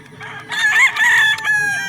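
A rooster at a poultry fair gives one loud, close crow with a rising start and a long held finish, and faint background noise sits behind it.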